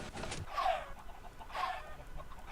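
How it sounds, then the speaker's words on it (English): Minecraft chickens at a chicken farm clucking, two short bursts of clucks about a second apart over a soft background hiss, fairly quiet. "Chicken, you can just see all the chicken popping out."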